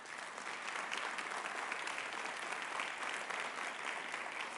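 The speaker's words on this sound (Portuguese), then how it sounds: "Pode aplaudir ao Senhor." A church congregation claps together in a dense, steady burst of applause that holds evenly throughout, heard alone without any voices.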